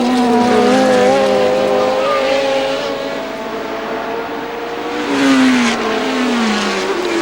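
Formula 1 cars, including the Lotus 72, race at the 1970 British Grand Prix, engines screaming loudly and shifting pitch as they blast past, one car's sweeping drone followed by another approaching.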